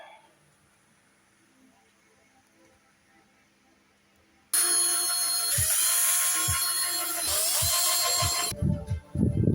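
A power drill with a screwdriver bit driving screws on an X-MAXX RC truck's bumper, after a quiet stretch it whirs loudly and continuously with pulsing bursts, then cuts off near the end.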